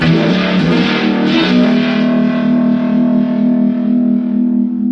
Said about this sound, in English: the other side of the Monterey pedal is going to give you your warble